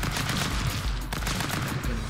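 Gunshots in the Stick Fight video game: a dense, steady barrage of rapid cracks and blasts, loud and close, with no pause throughout.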